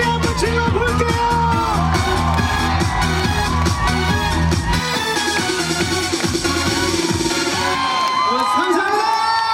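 A concert audience at the Masan Manalje festival shouts and cheers loudly beneath live music with a steady beat, whoops and yells rising over the band, the music dropping partway while the crowd noise carries on.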